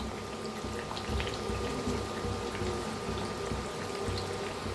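Sabudana and potato vadas deep frying in hot oil, a dense continuous bubbling hiss that holds steady and fairly loud throughout without pauses.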